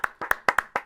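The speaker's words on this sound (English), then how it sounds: "Yeah, let's clap." Hand clapping: about seven sharp, close claps in under a second, quick and slightly uneven in rhythm.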